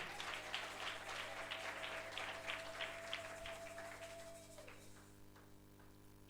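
A church congregation clapping in a steady rhythmic beat for about four seconds, fairly close, over a sustained background tone, before the clapping fades into quieter room noise.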